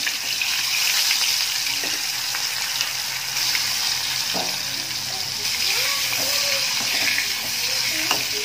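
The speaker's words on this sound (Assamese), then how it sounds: "তেল গৰম হ'ল এতিয়া ইয়াতে মই মাছ দি দিম" Fish fries in hot oil in a small wok on a home stove, a continuous loud sizzle and crackle with occasional stirring clinks and soft movements, while a person speaks briefly over it.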